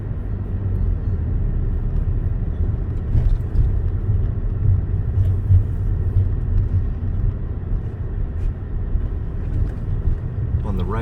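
An internal combustion car drives through the streets of Fort Lauderdale, its engine and road noise a steady low rumble close by throughout, with a person talking over it.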